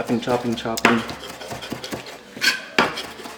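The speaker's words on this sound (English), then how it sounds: "So I just keep chopping this away, chopping." A knife chops ingredients for guacamole on a board, a quick run of close, sharp taps and knocks with uneven rhythm. Brief speech is mixed in.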